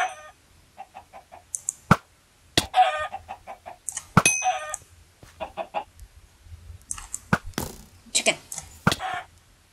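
Chickens cluck in short repeated bursts in the Minecraft server Wynncraft, mixed with sharp hits and other game sounds, fairly close and steady throughout.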